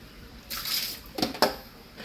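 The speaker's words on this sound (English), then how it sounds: "So I'm gonna add a little bit of water to that so it can make some juices" Water poured into a pan of cooking fish, a brief sizzling splash in two or three quick bursts over about a second, close and fairly loud, with no talking.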